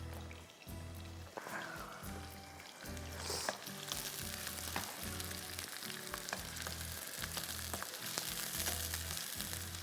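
Vegetables frying in a pan give a soft, steady crackle and hiss throughout, with a low rhythmic hum underneath.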